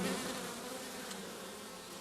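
Buckfast honeybees buzzing in a dense, steady drone, close and loud throughout with no pauses or voices.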